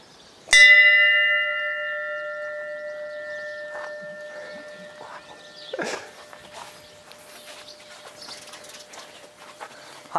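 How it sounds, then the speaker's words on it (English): A metal bell at a remote homestead gate is struck once, ringing out loud and close with a long clear tone that slowly fades over several seconds, followed by faint footsteps and small rustling sounds. "Guess I just ring the bell."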